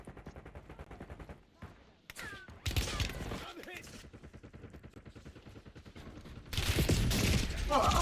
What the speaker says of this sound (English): Oh, I'm getting shot from every direction, bro.